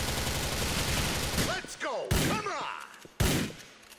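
Gunfire in the video game GTA 4, with bursts of rapid shots and sharp loud blasts around two and three seconds, some whooshing effects between, and faint game speech in the background.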